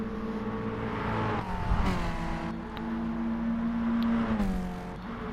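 Racing cars at the Goodwood Revival Sussex Trophy, including a Renault and a Porsche, roar past with rising and falling engine tones, two distinct pass-bys sweeping through amid steady engine noise.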